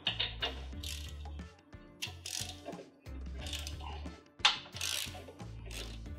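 A ratchet works loose the mounting bolt of a Club Car Precedent golf cart steering box. It gives repeated close, clicking strokes in an uneven rhythm with short pauses, and no talk is heard.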